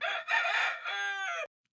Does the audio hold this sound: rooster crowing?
yes